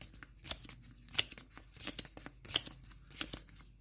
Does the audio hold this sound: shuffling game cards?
yes